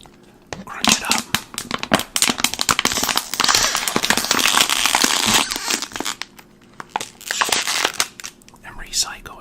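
A plastic water bottle is crunched up by hand, giving loud, dense crackling and crinkling bursts that come in waves over several seconds, with brief talk near the end.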